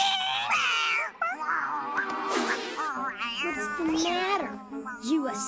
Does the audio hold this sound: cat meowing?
yes